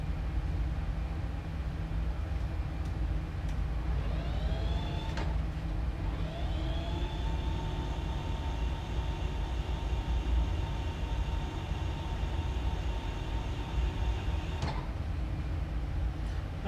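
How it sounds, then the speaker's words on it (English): A jet airliner engine spools up on start, a rising whine climbing over a steady broad roar, then holding at a high, even tone close by. "And a good start on engine 1."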